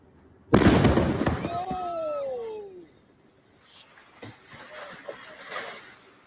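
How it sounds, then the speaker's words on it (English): A house explosion in Arlington goes off as a sudden loud boom, followed by a rumbling roar that fades over a couple of seconds. A faint wail rises and falls over the roar, then distant crackles and voices linger. "So you guys remember this house explosion, right? That happened a few days ago over in Arlington."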